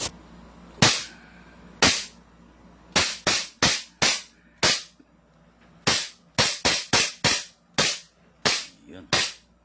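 An airsoft gun fires about fourteen sharp, snappy shots at irregular intervals, some in quick pairs, close and loud against a quiet background.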